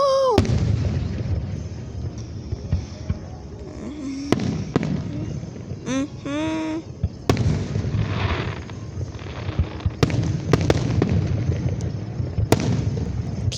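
Fourth of July fireworks show with repeated booming explosions, sharp cracks and crackling bursts spread across the sky, loud and continuous with brief gaps.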